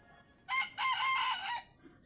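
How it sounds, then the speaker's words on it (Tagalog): A rooster crows once, loud and near, a long drawn-out cock-a-doodle-doo standing alone against quiet background. "Naipukpok at tilaok na naman yan si Giringgiting mga ka-hunter"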